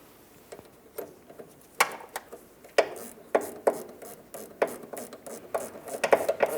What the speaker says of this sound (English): use a 13mm wrench to tighten this